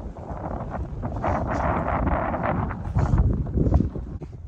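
Cold wind gusting across an open hilltop viewpoint, a steady rushing roar buffeting the microphone with louder gusts toward the end, no voices.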